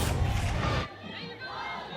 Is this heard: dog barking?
no